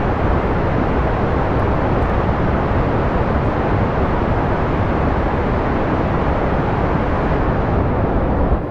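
Rocket engine thrust roars during a launch in Kerbal Space Program, a dense and loud unbroken broadband rumble that holds steady from start to finish with no voices over it.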